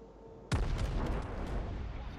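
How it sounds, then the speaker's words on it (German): Naval gun fire from a Japanese Fuso battleship in World of Warships: one sudden loud booming shot bursts in after a quiet moment, then a long rumbling roar trails off. "Der hat einfach gerade einfach so ins Nichts geschossen."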